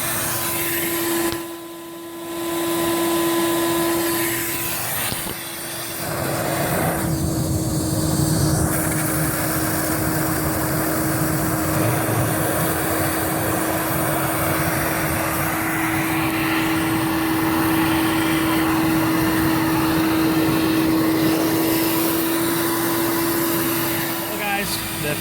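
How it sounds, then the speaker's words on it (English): A shop vac roars steadily and loudly as it vacuums out a Payne air handler outdoors in the rain. A continuous motor whine holds for the whole stretch after a brief dip near the start. "I'm gonna head outside and vacuum this thing out."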